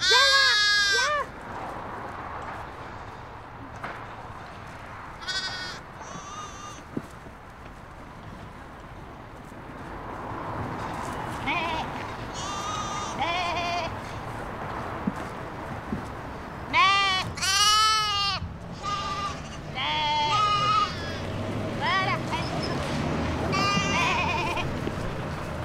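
A flock of sheep and lambs bleats outdoors, with repeated wavering calls, some loud and near, others fainter, scattered over a quiet background with a little distant talk.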